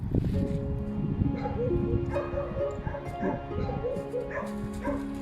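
Rescued dogs yip, whimper and give short barks in a loose, uneven run at close range, over a steady background hum and mixed with people talking.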